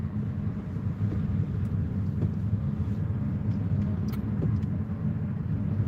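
A car on a short drive through the old part of Bet Shemesh city, with a constant low engine and road drone, heard close and steady from inside the car, without speech.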